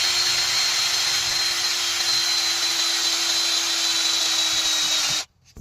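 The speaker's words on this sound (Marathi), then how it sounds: "याच्यामध्ये आहे PVC पाईपाला होल पाडायचं मशीन." A cordless power drill runs steadily, boring holes in PVC pipe with a constant motor whine, then cuts off abruptly near the end.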